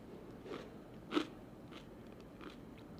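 Biting into crunchy edible insects, adobo grasshoppers and chili lime tajin ants: one sharp, close crunch stands out amid a few softer chewing crackles in a quiet room.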